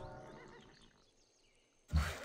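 A horse whinnies in the Civilization 5 strategy game, a game sound effect that comes in abruptly at the end and is loud and close, after a low tonal music bed with no talking.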